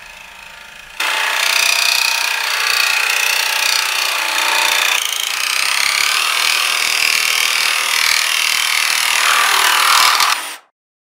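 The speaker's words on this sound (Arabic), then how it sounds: "ده سيخ بورما 8 ملي. خلينا نقصه ونستعمل سلاح المعادن" A cordless reciprocating saw cuts through 8 mm steel rebar, a loud continuous buzzing grind lasting about ten seconds with a brief change in pitch midway, then stopping abruptly.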